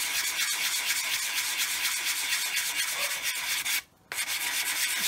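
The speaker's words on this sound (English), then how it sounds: "then we'll be ready with some fine sanding, and then the ends get a circular motion" Fine sanding on a 1/48 scale model R-11 fuel tanker: a steady, close abrasive rubbing that goes on almost without a break, stops for a moment near the end, then starts again.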